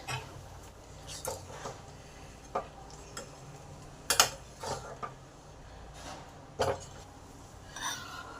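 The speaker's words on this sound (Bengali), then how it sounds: "ডালটাকে কন্টিনিউ নেড়ে যেতে হবে না হলে তলায় ধরে যায়" Pancharatna dal is stirred in a pot, with scattered soft scrapes and clinks of a spoon against metal over a quiet simmering background.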